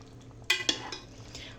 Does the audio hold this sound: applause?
no